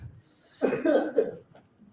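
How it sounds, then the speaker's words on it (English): A single short burst of coughing from an audience member at a comedy set, fairly close and clear, after a near-silent moment in a quiet room. "we got a cough on that one"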